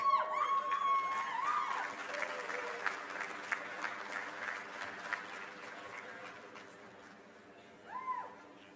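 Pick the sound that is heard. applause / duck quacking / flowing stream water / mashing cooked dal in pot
applause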